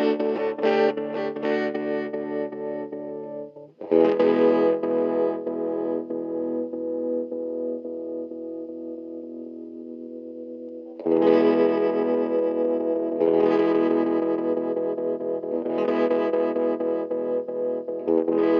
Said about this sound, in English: Kind of an interesting effect to play with.